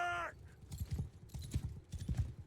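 Horse hooves clip-clop in a steady rhythm as cavalry charges in the video game Mount and Blade 2 Bannerlord, with a brief whinny at the start and thudding gallop beats throughout.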